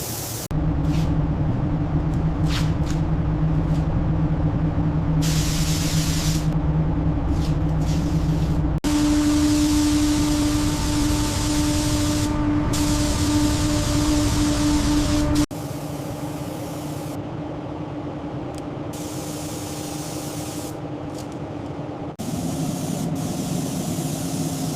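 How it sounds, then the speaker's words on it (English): An orange base coat is spray painted onto a Porsche 992 GT3 RS, the paint gun hissing in long continuous passes with brief pauses between them, loud and close over a low shop hum. "Here goes the first pass of the orange base coat."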